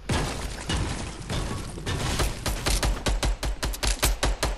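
Rapid bursts of automatic gunfire crackle through a squad battle-royale shooter match, sharp repeated shots growing denser and more evenly spaced toward the end, loud and close with no talk over them.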